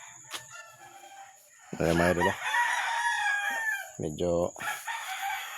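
Backyard-raised chickens in Cavite with roosters crowing loudly twice in long harmonic calls, surrounded by steady clucking and flock chatter; someone speaks briefly between the crows.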